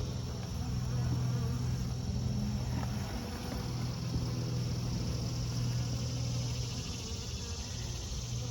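Honey bees buzz steadily in an open hive of a colony a little light on food, a dense, continuous hum close by with no talk over it.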